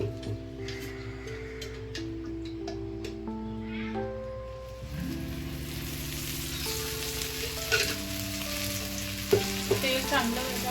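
An aloo paratha fries on a tawa griddle, a soft sizzle that swells partway through, while a cat meows repeatedly nearby over the cooking sounds.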